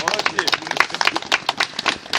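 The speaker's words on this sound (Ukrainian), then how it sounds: "давайте поаплодуємо нашому вертепу" An audience claps for a vertep nativity play troupe, scattered rapid hand claps mixed with people talking nearby.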